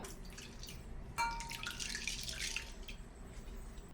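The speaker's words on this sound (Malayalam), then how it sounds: "ഇനി നമുക്ക് ഇതിലോട്ട് ചൂടാറിയ കസ്റ്റാർഡിന്റെ മിൽക്ക് ഒഴിച്ചു കൊടുക്കാം" Cooled custard milk poured over ice cubes in a bowl for a fruit custard sharbat, a faint close liquid pour with light splashing and trickling, with no voices.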